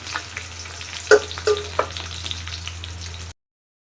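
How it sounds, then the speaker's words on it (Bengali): Chopped onion drops into hot oil in a wok where minced garlic is already frying, bursting into a loud sizzle with a few sharp crackles and stirring scrapes before it cuts off abruptly. "দিয়ে দিলাম পেঁয়াজ কুচি"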